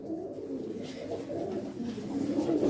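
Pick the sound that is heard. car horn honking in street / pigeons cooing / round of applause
pigeons cooing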